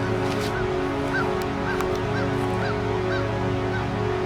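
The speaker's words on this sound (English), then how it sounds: "Have you ever seen a crow attack an owl?" A crow attacking an owl gives harsh, evenly spaced caws, about two per second, over a constant background hum.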